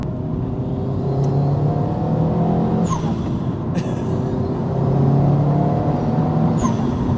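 A 465 bhp forged Subaru Impreza STI hatchback engine drones steadily in the background while dropping gears, its low rumble swelling slightly as it revs, with a few faint clicks and ticks over the top.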